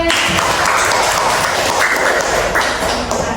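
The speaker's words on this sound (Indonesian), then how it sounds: "Tepuk tangan untuk Ade." A classroom of students applauds for a classmate with dense, steady clapping that fills the space, close and loud throughout.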